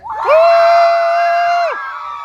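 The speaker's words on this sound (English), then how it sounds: "Number 8, cheer." A crowd at an outdoor car-show pin-up contest lets out a sustained burst of cheering and whooping for contestant number 8, loud and steady for over a second before dropping back to a softer murmur.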